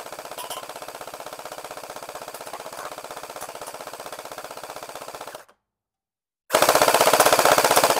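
A CosmoxToys gel ball blaster firing full auto at aluminum cans hung on fishing line, rapid continuous mechanical bursts, a brief silent gap, then another loud burst.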